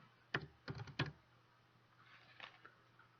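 Quiet typing on a computer keyboard, a few quick key clicks in short clusters followed by softer taps, close up in a still room with no talk.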